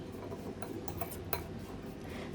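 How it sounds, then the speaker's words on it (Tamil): A spoon stirs chickpea salad in a bowl, giving faint, close clinks and light scraping taps scattered over a quiet background, with one sharper knock in the middle. "எல்லாத்தையும் சேர்த்துட்டு நல்லா இந்த மாதிரி கலந்து விட்டுக்கணும்."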